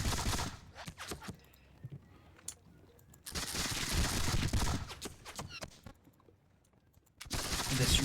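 Musket volleys in a Seven Years War battle game depicting the Battle of Zorndorf, with Russian infantry firing: bursts of crackling gunfire come in distinct waves separated by quieter gaps, loud and close.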